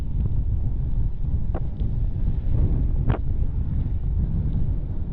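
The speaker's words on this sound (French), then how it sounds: "J'ai l'impression que le vent commence à tourner." Wind buffets the microphone while touring by gravel bike through the Jura in wet conditions, a steady low rumble with a few brief sharp clicks and no talking.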